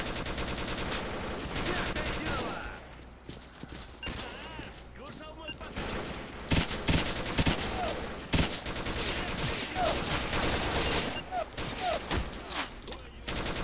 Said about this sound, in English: where are they shooting from this time?